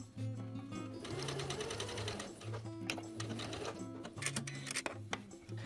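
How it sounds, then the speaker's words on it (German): A sewing machine straight-stitches the fly of a pair of jeans with a concealed button placket at a 10 mm seam allowance. Its quiet, rapid mechanical chatter runs steadily with brief pauses, and nobody talks over it. "Von der Markierung steppe ich die Teile mit einem Gradstich mit 10 mm Nahtbreite zusammen."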